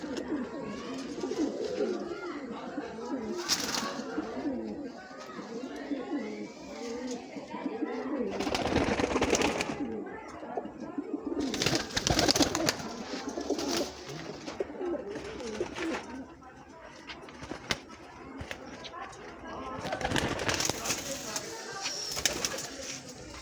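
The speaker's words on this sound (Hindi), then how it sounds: "बहुत अच्छी कबूतरी है।" Breeder pigeons in Bhara Kahu, Islamabad, coo softly and steadily under someone talking nearby, with occasional bursts of wing flutter and rustling.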